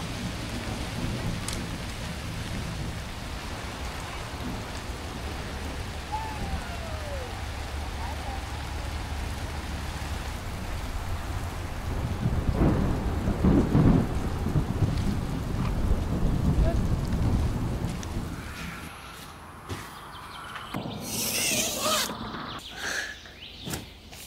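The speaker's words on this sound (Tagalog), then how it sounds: "It's raining! It's raining!" Rain falls steadily on a forest with rumbling thunder from a storm, building to a heavier wash midway, then thinning out, with people's voices in the background near the end.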